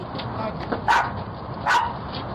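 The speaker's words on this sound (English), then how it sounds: "The guard dog sets off a 12-bark alarm." A guard dog barks at a disturbance, two sharp loud barks standing out over steady background noise.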